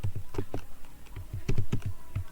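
Typing on a computer keyboard, a quick uneven burst of soft close key clicks with a short pause midway.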